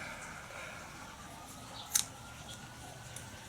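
A single quick snip cuts through paracord, a brief crisp click standing out over a quiet, faintly hissing background, with no talking.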